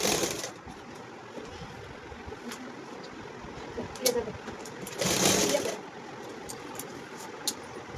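A sewing machine stitches a double seam on a V-collar suit, running with a steady whirring hum and a few sharper bursts. Someone talks over it throughout.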